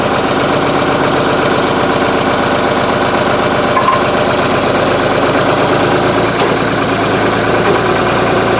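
A John Deere A tractor engine runs steadily, a loud, close, rhythmic low chugging with a knocking pulse that continues without talk.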